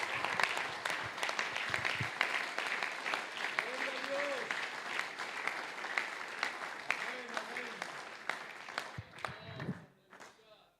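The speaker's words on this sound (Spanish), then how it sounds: "Alguien aplauda fuerte a Jesús." A church congregation at a men's congress applauds in a long, loud burst of clapping with scattered shouts, which thins out near the end while a preacher's voice carries over it.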